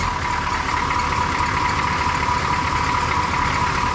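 A Chevrolet Squarebody truck engine idles steadily and up close, a continuous rumbling drone with a slight rough, knocking undertone and no voices.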